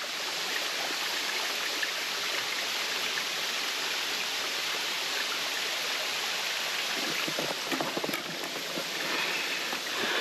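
A stream flows steadily beside a hiking trail, a constant broad rushing wash of water heard close and fairly loud, with a few faint knocks near the end.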